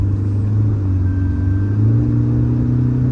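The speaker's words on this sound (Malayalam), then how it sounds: "നല്ല പവറിലാണ് വണ്ടി പോകുന്നത്" A Toyota Fortuner automatic SUV pulling hard on the road, its engine giving a steady, close, low rumble that swells slightly as it accelerates, with no talk over it.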